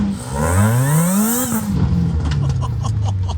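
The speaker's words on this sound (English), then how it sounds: "a supercharger that sounds like this" Supercharged Saturn Ion Redline four-cylinder revving hard, pitch sweeping up through one strong rev then dropping back toward idle with a whining overtone, close and loud.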